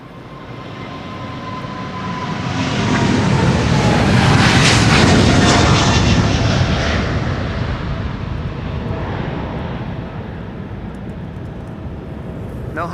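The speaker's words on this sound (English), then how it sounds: "So this is KLM flight 611 going to Chicago, O'Hare. 777-200." A 22-year-old KLM Boeing 777-200 jet taking off, its engine roar building loudly to a broad peak, then slowly fading as it climbs away.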